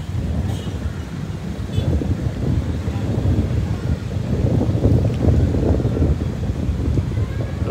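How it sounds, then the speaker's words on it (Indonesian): Strong sea wind buffeting the microphone at Fajalawa beach in Morotai on a late afternoon, a loud, continuous low rumble with gusty swells, alongside the wash of rough, wavy water. "Lautnya berangin guys, sangat bergelombang."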